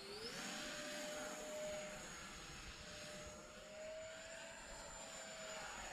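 An E-flite F-15 Eagle RC jet flies steadily overhead with a continuous whine and broad rushing roar, a rising tone at the start and the level holding fairly even throughout, no talk.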